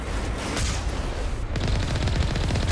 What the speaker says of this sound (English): Oh, there are turrets here.